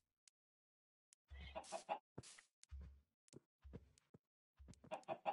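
Minecraft chickens cluck in short, scattered bursts, sharp and close, separated by moments of near silence.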